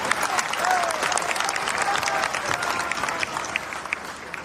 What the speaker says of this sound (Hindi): तालियां कमजोर लगी आपकी, तालियां बजाएं एक बार।